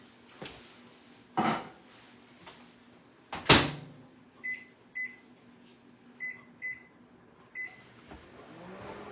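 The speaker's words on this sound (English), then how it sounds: "It's going to go in the microwave for 15 minutes" A microwave oven: a dull thump, then a run of short electronic beeps in uneven groups over a low, steady hum.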